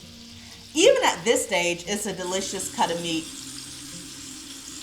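Seasoned lamb chops sear in a cast iron skillet, a hissing sizzle running under a woman's speech throughout.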